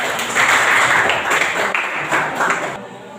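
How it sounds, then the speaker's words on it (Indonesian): Classroom applause from a group of students, a brief burst of scattered clapping that swells and fades before cutting off. "Tepuk tangan untuk kelompok"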